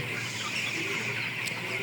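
Seventeen-day-old broiler chickens in a ventilated poultry shed make a continuous blended chorus of soft cheeping and clucking, steady and fairly faint, with a brief sharp noise near the end.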